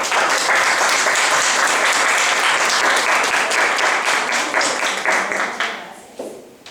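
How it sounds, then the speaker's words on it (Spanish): A standing audience gives a dense, loud ovation after a formal session, the sustained clapping holding steady before thinning and fading out over the last second or so. "Aplauso de pie."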